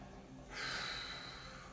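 Breathing during a Pilates session: a single soft, airy breath, probably an exhale, swells in about halfway through and holds steadily to the end, fairly close and alone with no talk.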